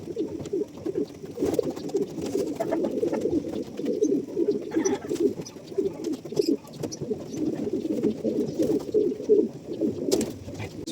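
Pigeons cooing in a cage, a continuous chorus of low, throaty coos from several birds overlapping nearby, with faint background noise.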